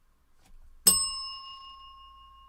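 A single bright bell strike used as a sound effect on a morning talk show rings out once, then leaves a clear metallic tone that slowly fades over the next couple of seconds.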